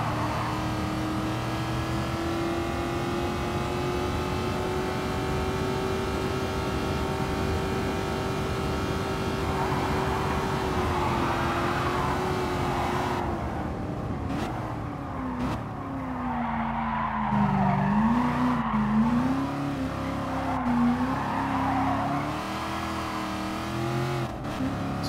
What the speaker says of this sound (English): Oh boy, this car sounds nice.